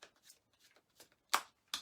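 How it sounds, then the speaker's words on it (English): A deck of playing cards is shuffled in a few quick riffling bursts, soft at first and then two sharper, louder snaps near the end, close by and with no talking. "give the cards a shuffle"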